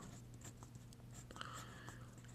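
Pen scratches faintly on paper as numbers are written by hand, in short quiet strokes over a low steady background hum.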